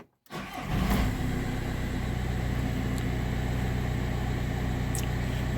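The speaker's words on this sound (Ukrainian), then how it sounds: "Все, завелося. Працює." A Volkswagen Touran 1.9 TDI diesel engine cranks briefly and catches, then settles into a steady, loud idle heard close by with no voices.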